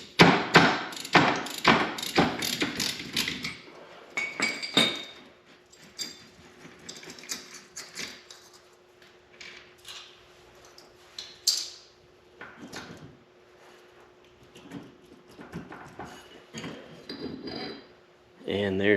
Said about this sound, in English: we'll take this cotter pin out and we'll get this nut off